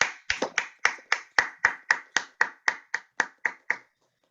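A small audience gives applause during a leadership training session: about fifteen evenly spaced, crisp claps, close and moderately loud, ending in silence.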